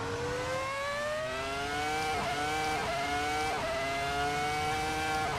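A 2017 Ferrari SF70-H Formula 1 car fitted with a V10 engine in Assetto Corsa screams as it accelerates hard, its shrill engine note climbing and dropping through several quick upshifts, loud and close.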